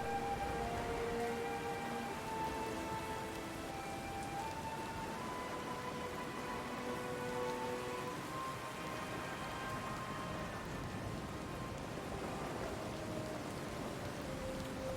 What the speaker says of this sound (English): The wind calms, but the rain pours from the sky